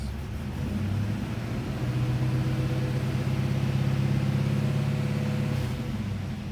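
A cold project car's engine revving as gas is applied. There is a steady, moderately loud mid-low rumble that swells gradually and eases off again, heard close up with no talking.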